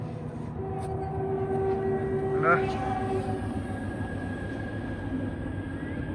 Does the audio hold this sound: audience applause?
no